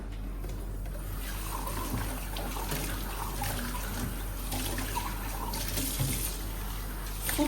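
Warm water runs steadily from a kitchen tap into a sink, a continuous broadband rush with small splashy fluctuations, fairly close and alone.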